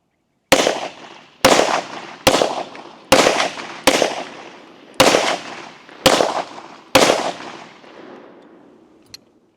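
Eight loud shots from a 1911 pistol fired one after another at a steady, unhurried pace, each cracking sharply and ringing out briefly before the next.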